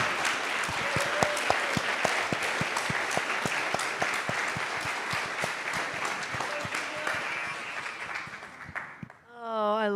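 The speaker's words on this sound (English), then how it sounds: "So let's wrap them in a warm blanket of applause." An audience at a full moon ceremony claps for about nine seconds, a dense steady patter of many hands that fades at the end as a voice begins to speak.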